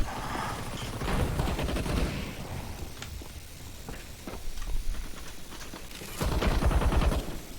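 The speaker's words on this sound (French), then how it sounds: "les tirs ils viennent sur moi là" Gunfire in the video game Counter-Strike comes as dense, rattling bursts of rapid shots over a constant noisy backdrop, with a heavy rush of firing near the end.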